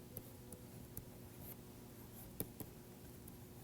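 Chalk or marker writing on a board during an acoustics lecture on modal character: faint scratchy strokes with a few small taps, quiet and alone, in a room with steady low background hum.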